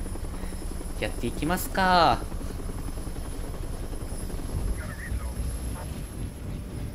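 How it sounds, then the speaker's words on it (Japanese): Helicopter in the video game Resident Evil 3 remake, a steady rotor drone running throughout beneath a voice and a brief rising electronic sweep. "カプコン製のヘリか"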